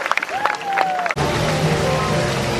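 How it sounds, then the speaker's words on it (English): An audience claps at a sea lion show in a UK amusement park. Brief whistles and tones come first, then a burst of dense, close applause fills the rest of the moment. "Big clap on the last one"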